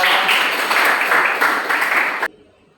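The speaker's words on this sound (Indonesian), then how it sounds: "Tepuk tangan untuk Mbak Zahra." A class applauds a student presenter during a university teaching-practice lesson, a short burst of mixed clapping that cuts off abruptly, leaving near silence.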